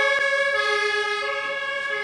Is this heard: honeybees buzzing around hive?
no